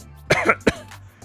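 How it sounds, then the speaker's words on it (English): A man with a cold clears his throat and coughs, two sharp bursts close to the microphone with a short rumble between, then quiet room tone. "apologies for when I need to like clear my throat or"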